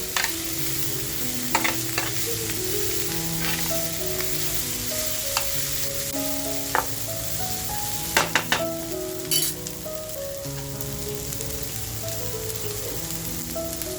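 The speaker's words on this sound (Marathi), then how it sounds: "त्याच्यानंतर थोडी ठेवलेली शिमला मिरची आणि 1-2 मिनिटं आपण छान ह्याला टॉस करून घेऊया" Squid pieces and capsicum (shimla mirch) sizzle loudly in a hot pan while being tossed, with a continuous fry and scattered sharp spatters and utensil clinks, close and without talk.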